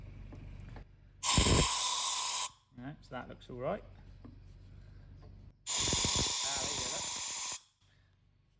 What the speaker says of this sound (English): I've got the air line here. We're going to spray up in through the exhaust ports